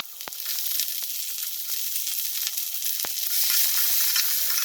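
Onions sizzle steadily in hot oil in a pan, a continuous bright frying hiss with a few sharp pops and crackles, close and fairly loud with no talking.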